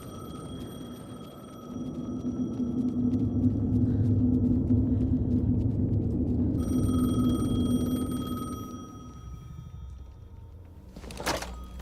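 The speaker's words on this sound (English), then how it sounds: "The phone again." A telephone rings in the video game Alan Wake 2, its tonal electronic ring sounding over a deep droning rumble that fades out, with a sharp knock near the end.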